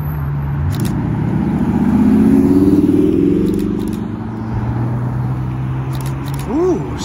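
A Ferrari FF drives by at a car meet, its engine swelling loudly as it passes and then receding, followed by a short rev from another car.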